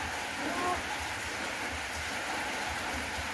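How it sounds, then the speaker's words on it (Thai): Rain falls in a steady, even hiss outdoors in rural farmland, a constant wash of patter with no breaks and no audible talk. "มัน ฝนตกแล้ว"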